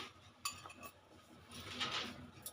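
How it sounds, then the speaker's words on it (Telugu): Cauliflower pieces drop into a pot of boiling water with quiet clinks and knocks against the metal, a few scattered close impacts over a soft bubbling hiss. "ఇప్పుడు నీళ్లు మరుగుతున్నాయి కదా ఇందులోకి క్యాలీఫ్లవర్ ముక్కలు వేసేయాలండి"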